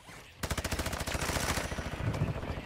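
Rapid automatic gunfire in the video game Call of Duty DMZ, a loud sustained burst of evenly spaced shots that starts abruptly and runs on, with a brief pause and renewed firing toward the end.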